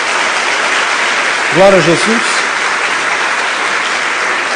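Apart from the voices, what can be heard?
church congregation applause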